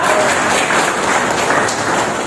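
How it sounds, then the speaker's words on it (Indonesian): An audience at a union gathering in an Indonesian hotel claps steadily and fairly loudly, a dense, even wash of many hands with no clear gaps. "Aplaus buat Kasar Indonesia Indah."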